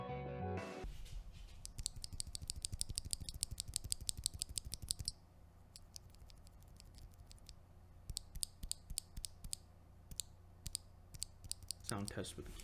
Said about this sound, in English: Here I am sorting out the switches, doing a little sound test for you.